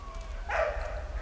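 Brief single dog bark or yip in the video game Valiant Hearts, short and mid-loud against a low background hum.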